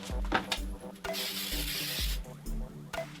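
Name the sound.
spraying disinfectant cleaner on a textured wall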